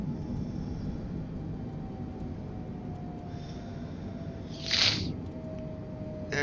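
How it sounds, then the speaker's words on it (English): Landing gear of a Boeing 747-400 retracts in Microsoft Flight Simulator 2020, a brief hiss and mechanical whoosh rising over the steady cockpit engine drone, followed by a thump as it stows. "There goes the gear."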